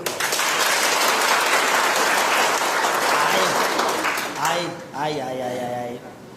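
An audience applauding, dense and loud clapping that fills most of the clip before it fades. A voice starts speaking near the end as the applause dies away.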